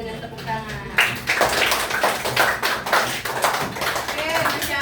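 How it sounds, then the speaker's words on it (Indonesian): A primary school classroom breaks into scattered, uneven hand claps that rise and taper over a few seconds, with voices talking through them. "beri apresiasi dulu dengan tepuk tangan."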